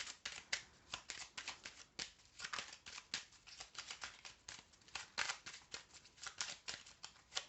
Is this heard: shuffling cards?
yes